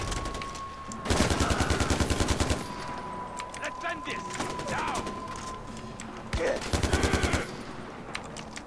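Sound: gunfire from a gun in the video game Far Cry 4

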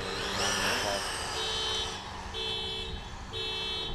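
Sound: car alarm going off

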